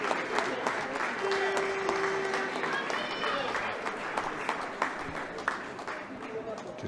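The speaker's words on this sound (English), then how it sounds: "home crowd in Páirc Tailteann getting behind their team as always" The home crowd at Páirc Tailteann claps and cheers as the Meath team appears at a Leinster Senior Championship Gaelic football match against Kildare. The applause is steady and dense and carries on under a commentator's voice.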